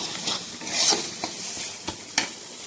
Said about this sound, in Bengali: এবারে একটুখানি নাড়াচাড়া করে ভেজে নেব